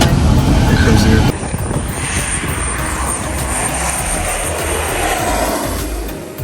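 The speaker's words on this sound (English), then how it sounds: "And there's an airplane coming." A fixed-wing airplane roars overhead at St. Barths with a loud, broad engine rumble that swells and then slowly fades. People talk over it.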